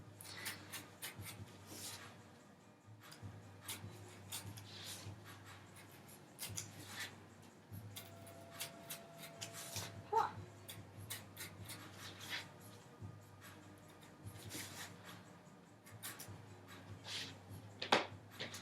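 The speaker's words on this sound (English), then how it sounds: "I'm moving the cardboard so that it's easier and safer for me to cut" Scissors or a blade cut through corrugated cardboard in short, close, dry rasping strokes, repeated irregularly with brief pauses, quiet, with no talking.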